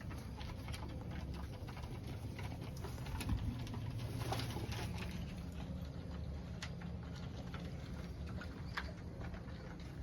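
Pigeons being fed grain coo and flutter close by, with scattered pecking and flapping sounds over a steady low outdoor rumble.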